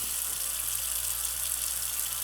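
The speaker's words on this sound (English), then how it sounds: "You see that the way you pour it, over there, how brown the water is" Brown tap water pours from a faucet in Flint, a steady close splashing rush that holds even throughout, with no talk.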